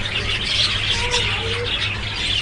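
Busy chirping and twittering of many budgerigars and java sparrows in a bird colony, a continuous bright chatter over low background hum.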